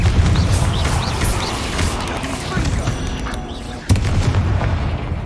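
Repeated Confringo spell blasts in a video game boom and crack loudly as a spider is killed, layered over ongoing combat noise with a sharp burst near the end; a voice speaks at times.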